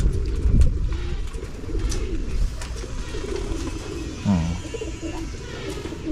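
Pigeons cooing inside a pigeon loft, soft repeated throaty coos layered over a steady murmur of background noise, with one clearer coo standing out midway.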